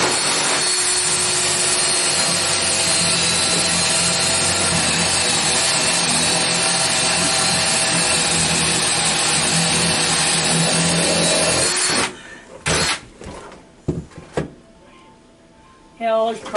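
Power drill boring a bit into a wooden framing member beside a water heater, a loud continuous grinding whine for about twelve seconds that stops abruptly, followed by quieter clunks and handling noises.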